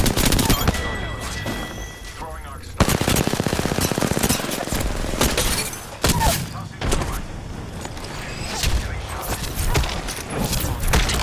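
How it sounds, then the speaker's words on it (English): Gunfire in the video game Apex Legends during a ranked match: dense, continuous automatic bursts and rapid shots with thuds, loud and close, running almost without pause, with voices speaking at times over the shooting. "Getting shot at. Firing on subject. I'm taking fire."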